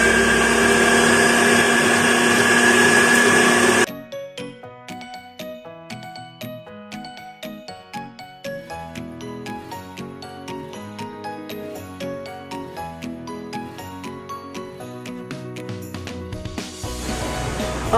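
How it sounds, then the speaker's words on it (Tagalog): An electric meat grinder grinding chicken for siomai whirs with a loud, dense motor roar for the first few seconds, then stops and gives way to light background music. "ito na yung meat grinder na binigay ni husband"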